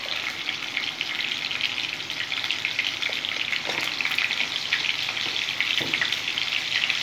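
Frying in rendered mutton fat with turmeric and salt, a steady bright sizzle close by that holds at an even level throughout, with a few faint clicks and no talking.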